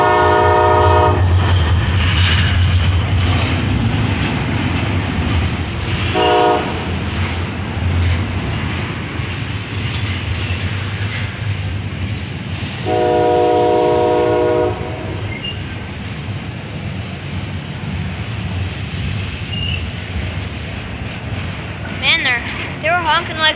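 A CSX locomotive, Baltimore & Ohio heritage unit 1827, sounds its horn for a crossing at a trestle. Several loud blasts ring out over the steady rumble and clatter of the passing train.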